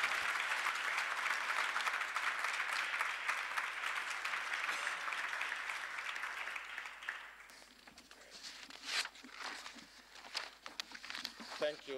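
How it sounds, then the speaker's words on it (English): A conference audience claps in sustained, dense applause that gradually thins out into scattered claps, with a voice speaking over the final seconds. "One more round of applause,"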